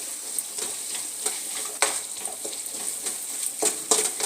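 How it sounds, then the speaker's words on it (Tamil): Onion, tomato, green chilli and ginger-garlic paste sauté in a hot pan with a steady sizzle and frying crackle, broken by a few stirring scrapes, close and without speech. "இஞ்சி பூண்டு பேஸ்ட்டு போட்டு பச்சை மிளகாய் போட்டு வெங்காயம் தக்காளி போட்டு வதக்கி இருக்கிறோம்"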